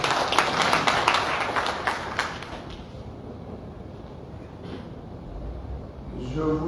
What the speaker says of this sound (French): le fantastique comité d'organisation que je vous demande de bien vouloir applaudir